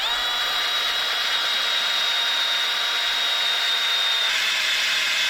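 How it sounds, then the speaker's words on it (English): A power drill whines steadily at high speed, biting into wood with a continuous grinding rasp, close and loud throughout. "Best drill ever."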